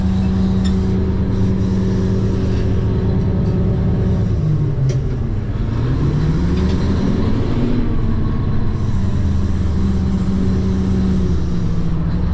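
A tractor pulls a Rome 475 plow through a field, giving a loud, steady engine drone with a low rumble that dips and rises as the load changes partway through, with no talk over it.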